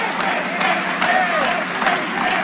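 A Houston wrestling crowd in 1982 cheering and applauding for Ricky Morton, a dense, steady roar of clapping and shouts filling the arena, with a commentator talking over it.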